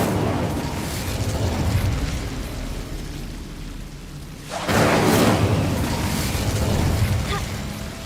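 A fiery Incendio spell goes off in the game Hogwarts Legacy. A rumbling, blast-like burst swells sharply about halfway through over a steady roar of ambient battle noise.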